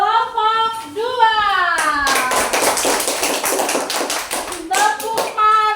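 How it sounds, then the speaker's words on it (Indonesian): A class of fourth-grade schoolchildren claps together for a group of classmates, with dense, fast, overlapping applause filling the middle seconds and children's voices chanting and talking before and after it. "Beri tepuk tangan untuk kelompok 2"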